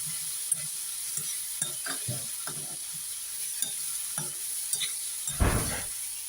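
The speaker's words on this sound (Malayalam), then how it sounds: "ഇത് എല്ലാം കൂടെ നന്നായിട്ടൊന്ന് വഴറ്റണം." Onion, tomato and beans sautéed together in a pan for vegetable soup: soft sizzling with intermittent scrapes and stirs of a spatula, and a louder burst of scraping near the end.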